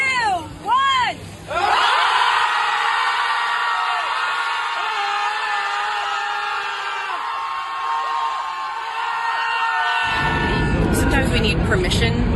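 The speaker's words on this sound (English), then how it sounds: "Sometimes we need permission to scream" A loud burst of several people screaming and yelling together, sustained for about eight seconds at close range and cutting off abruptly, with brief voices before and after.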